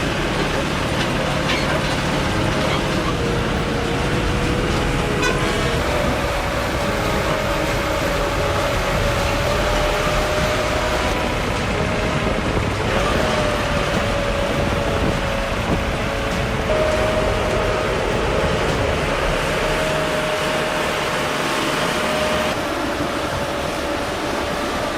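A big tractor hauling 40 tons of potatoes up to a main road gives a continuous loud, heavy engine drone with rumbling and clattering, holding a steady whining tone that shifts slightly in pitch over the whole stretch.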